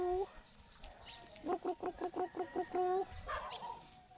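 Close, quiet pigeon-style cooing in a quick, even string of about ten short throaty calls, produced by a human voice imitating the birds, with a few faint sounds before and after.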